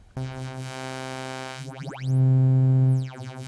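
A Sylenth1 synth note through a phaser with the feedback turned up, a sustained harmonic tone with a pronounced resonant sweep rising and falling in the middle, loud and alone.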